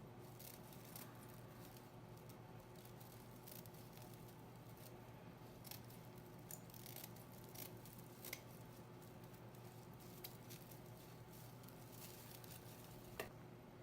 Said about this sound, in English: Then you'll take the scissors and you will cut across.